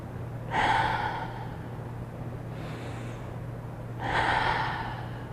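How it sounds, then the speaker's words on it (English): Two loud breaths through the chest, an inhale and then an exhale, at about 0.5 and 4 seconds, each rushing and airy, with a faint breath between them over a low steady hum. "Thoracic breathing is like this."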